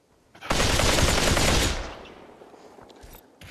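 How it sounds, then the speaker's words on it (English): Gunfire in the VR shooter Population: One, a loud burst of rapid automatic fire lasting just over a second, then trailing off into fainter echoes and scattered distant shots. "I'll keep shooting at him."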